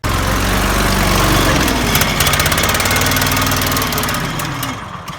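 A twin-cylinder lawn mower engine runs loud and steady after a repair for stuttering, with an uneven, slightly rough throb that fades a little near the end.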